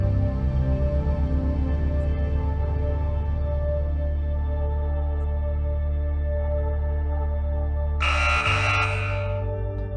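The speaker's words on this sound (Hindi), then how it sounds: "और पहला बजर दबाया टीम बी ने।" A quiz show buzzer, pressed by a contestant team, gives a single short bright burst near the end over a steady droning music bed.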